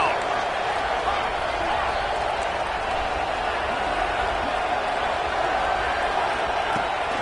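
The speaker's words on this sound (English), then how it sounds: "The Red Raider crowd rising to the occasion to help its defense on third down." A college football stadium crowd roars steadily as the home fans rise to back their defense on a third down, a dense, continuous wash of cheering and noise that never lets up.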